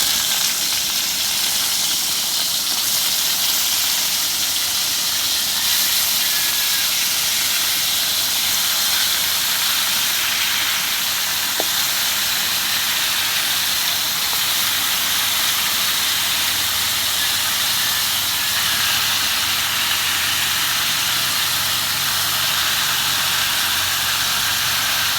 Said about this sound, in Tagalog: Sa akin po munang ipiprito-pirito po ng kaunti.